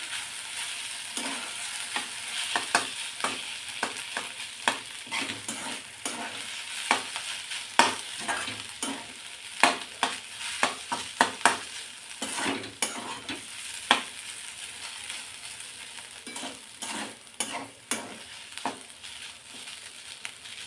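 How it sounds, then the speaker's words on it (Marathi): Grated potato filling with chopped coriander is mixed for stuffed potato parathas, making repeated close scraping and stirring strokes in an irregular rhythm throughout, with a faint frying hiss underneath. "आता हे छान मिक्स करून घ्यायचं।"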